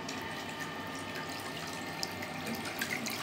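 Hot water runs from a bath tap into the tub, a steady close rushing hiss with small splashes, continuous and fairly loud without any talking.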